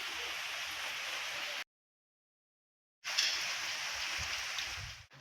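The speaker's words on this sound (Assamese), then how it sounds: "চাওক, চাওক বৰষুণ দি আছে" Light drizzle falling steadily outdoors, a soft even hiss that cuts out completely for over a second and then resumes.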